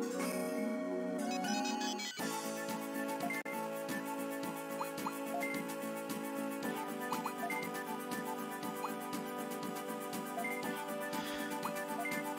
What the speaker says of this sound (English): No, I don't want to answer your stupid phone call.